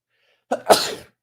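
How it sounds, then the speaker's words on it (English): A single sharp sneeze, a quick intake followed by an explosive burst, close and alone in silence. "I am going to sneeze."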